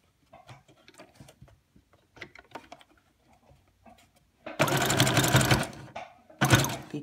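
A sewing machine set to a zigzag stitch runs in two bursts, a longer rapid whirring run and a brief second one, after scattered quiet clicks and handling sounds.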